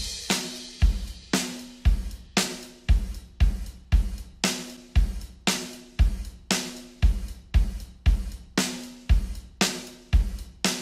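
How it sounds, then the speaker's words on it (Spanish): Drum kit recorded with 12 microphones, playing a steady groove of punchy kick and snare hits with cymbals in an even repeating rhythm, close and loud with no voices. "Aquí vemos una batería grabada con más de 8 micrófonos"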